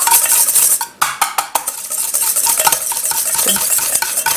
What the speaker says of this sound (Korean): 좀 거품기를 좀 저어주세요